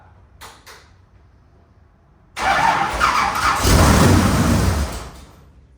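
A stock race car's starter cranks the engine in a loud, continuous grinding whir lasting about three seconds, preceded by a couple of faint clicks and trailing off at the end.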